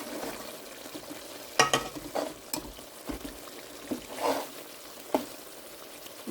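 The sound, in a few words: chicken salan frying in oil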